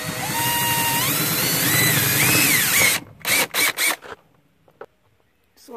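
A power drill whines loudly and steadily, its pitch rising and falling, then stops and gives several short bursts before falling quiet.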